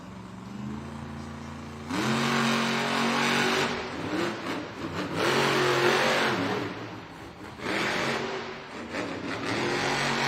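Gravedigger monster truck revving at a Monster Jam arena event in Duluth, Georgia: loud, close engine roars rising and falling in several long bursts, with brief dips between them.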